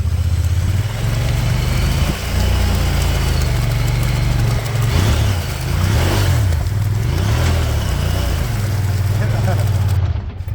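Honda Pioneer 1000 UTV engine in turf mode with one-wheel drive and the rear diff unlocked, crawling through a hurricane-cut ditch; a loud, close, low engine drone that rises and falls as the throttle changes.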